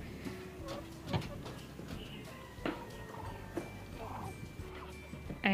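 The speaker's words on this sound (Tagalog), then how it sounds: "Matikas na po itong ating rooster." Brahma chicken rooster and poultry in a backyard pen, faint scattered clucks and calls with a few short sharp bursts over low background noise.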